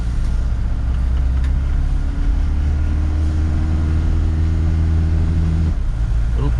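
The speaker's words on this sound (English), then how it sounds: "Oh, it shifted into second." A 1971 Mercedes 220D diesel, on its first drive in decades, drones steadily at low pitch as it pulls away, its engine note dropping sharply near the end with a hard gear shift, loud and close.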